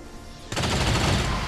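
A ranger's rapid-fire gunshots in XCOM 2 burst out after a brief quiet lead-in, a dense, loud volley of close shots that keeps going to the end, with no talk.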